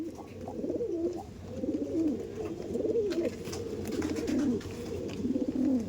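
Andhra pigeons, an active breeding pair, coo in repeated low throaty phrases close by, continuous over a quiet background.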